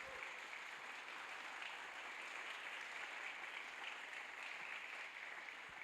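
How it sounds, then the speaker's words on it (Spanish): Steady applause from a church congregation during a sermon, continuous and even throughout, heard at a distance and fairly faint. "Si va a aplaudir, apláudale a Cristo."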